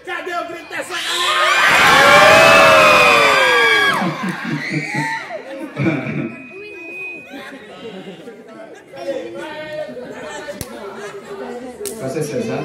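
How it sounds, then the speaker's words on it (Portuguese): A circus audience shouts and cheers loudly, a big burst of crowd noise with children's high voices building and then easing into lively chatter and scattered shouts, with occasional single yells. "Cadê o grito dessa galera?"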